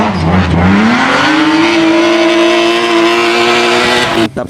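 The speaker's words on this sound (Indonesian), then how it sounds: "ada mobil balap" Race car engine revving effect from a toy race car, a loud continuous whine that climbs in pitch and holds steady before cutting off abruptly.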